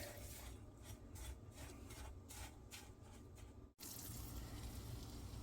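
Seasoning is stirred into flour in a bowl, giving a faint, steady rasping scrape with rhythmic strokes. The sound breaks off briefly, then resumes.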